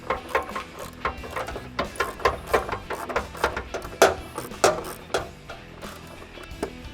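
Ratchet turning a bolt while installing a Diabolical slide floor in an INEOS Grenadier: a run of close, quick metallic clicks and clacks in uneven bursts, with no voices.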